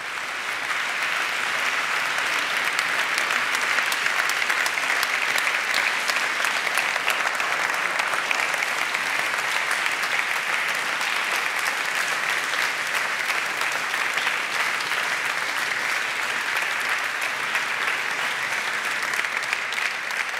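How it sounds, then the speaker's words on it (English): A large audience at the Roland Berger Foundation Human Dignity Award ceremony in 2017 applauds in a long, sustained roar of clapping that stays even and unbroken for about twenty seconds. "And now, everybody, you're allowed to applaud."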